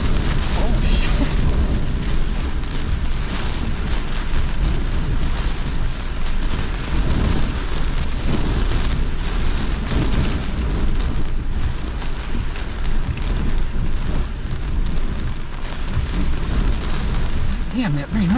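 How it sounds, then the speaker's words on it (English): Heavy rain lashes the ground in hurricane-force winds, a dense, continuous roar with deep rumbling gusts throughout, close and loud with no letup. "Damn, that rain hurts."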